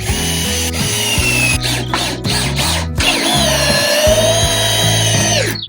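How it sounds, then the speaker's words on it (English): Cordless power drill driving large hex-head screws into timber framing for a garden entrance, a loud close run of whirring bursts that rise and stop, with short pauses and ratcheting clicks between screws. "One drill to pre-drill my holes, other drill to put the big whopper chopper screws in."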